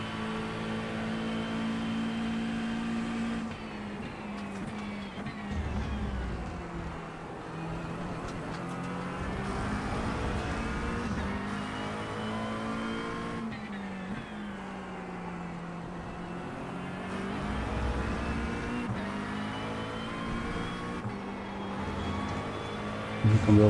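LMP2 prototype race cars in the iRacing sim at Road America roar past with rising and falling engine pitch, the steady drone of one car's engine underneath as others sweep by, with no speech.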